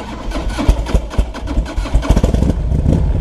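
Engine of a 2003 Harley-Davidson Electra Glide Classic motorcycle with about 11,000 miles, a loud, close, uneven low rumble with irregular pulsing throbs, like it is starting up and settling into an idle.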